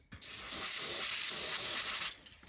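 Aerosol brake cleaner sprays onto a Harley rocker box in a steady bright hiss lasting about two seconds, starting abruptly after a brief pause and cutting off cleanly, close and alone without talk.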